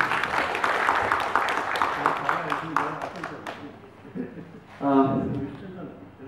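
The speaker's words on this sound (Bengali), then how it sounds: "তার জন্য একটা বড় হাততালি তো ওদের প্রাপ্য হতেই পারে" An audience at a film premiere claps briefly, the applause rising and fading within a few seconds before someone begins speaking.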